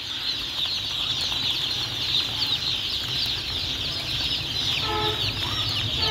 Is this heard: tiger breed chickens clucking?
yes